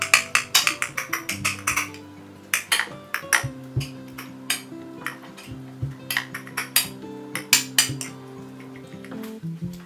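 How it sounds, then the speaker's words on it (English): Utensils clink and scrape against a bowl or plate, cutting an easy-over egg into small pieces and mixing it through rice, with rapid clusters of sharp taps and some sustained ringing, close and fairly loud. "Cut up the egg into small pieces and mix, blending the yolk all over the rice."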